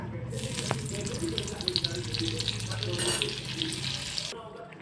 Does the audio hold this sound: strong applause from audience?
no